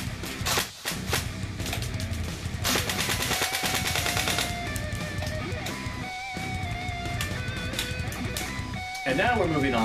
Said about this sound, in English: firing this MP5 will work a lot like this